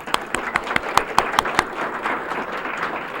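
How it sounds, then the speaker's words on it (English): Scattered applause from a small audience at a college genealogy talk: a few sharp, distinct claps up front, then a thinner patter of hands that fades out, no talking. "Let's give her another round of applause."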